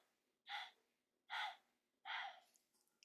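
Three short, sharp inhalations through the nose, evenly spaced about a second apart, close and quiet, part of a segmented pranayama breathing exercise.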